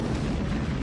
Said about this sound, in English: This right here is a 1-ton TNT explosion, also known as a normal creeper.